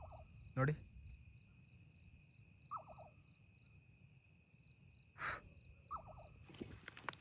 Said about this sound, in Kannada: ಯಾವುದೋ ಒಂದು ಪಕ್ಷಿ ಏನೋ ಕೂಗ್ತಿದೆ, ಕೇಳಿಸ್ಕೊಳ್ಳಿ